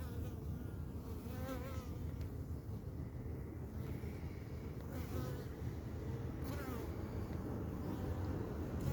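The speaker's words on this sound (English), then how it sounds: "There's bees clustering at the door." Honey bees buzz as they fly out from the entrance of a heated backyard hobby hive, a soft continuous swarm hum with individual buzzes passing close by the microphone, along with light wind noise and faint background speech.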